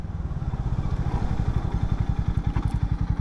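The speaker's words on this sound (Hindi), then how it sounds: "यहाँ पर दोस्तों फिसलन जैसी शायद आपको आवाज़ आई होगी, लेकिन वो ABS के लिए आई है" A Harley-Davidson X440 or Hero Mavrick 440 motorcycle chugs with a steady low pulsing beat, loud and close, with faint scraping and clatter underneath from ABS braking.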